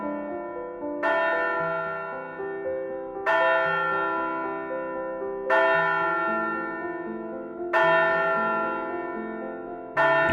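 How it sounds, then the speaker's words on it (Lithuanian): A deep, resonant church bell at the Pažaislis Camaldolese monastery tolls four times at an even, unhurried pace, each loud strike sustaining a long, rich hum that blends into the next, with no voices present. "Pasiklausykite sodraus varpo gaudesio."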